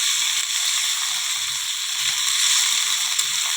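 Carrots, capsicum, yardlong beans and onion fry in a pan, giving off a steady, bright, hissing sizzle that holds at an even level throughout, with no voices.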